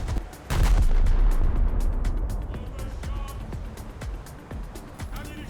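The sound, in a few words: pom-pom anti-aircraft guns firing in video game War Thunder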